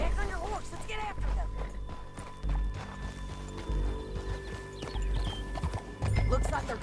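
Horse hooves clip-clopping at a gallop in Red Dead Redemption 2, a steady rhythmic beat under game music, with a horse whinny and a voice talking over it.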